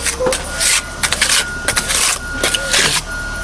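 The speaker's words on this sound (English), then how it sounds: "On this kind of job I get my sprayer, because wetting is what makes it stick." Bursts of spray hiss as a sprayer wets stone veneer pieces during installation, several short blasts in an uneven rhythm, close and loud, with a person speaking between them.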